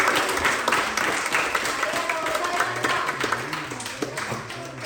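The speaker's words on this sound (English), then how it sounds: "Let's give it a big round of applause." An audience at a sumo experience claps a round of applause, a loose patter of hands with a faint voice and some tapping sounds mixed in, fairly close and steady.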